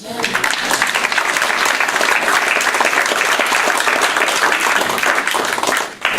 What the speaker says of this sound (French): Je pense que ça vaut le même applaudissement.